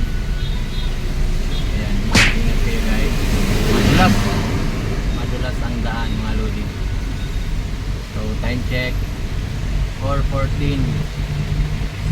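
Congested car traffic on EDSA, a continuous low engine and road rumble with a sharp passing noise early on, while people talk over it.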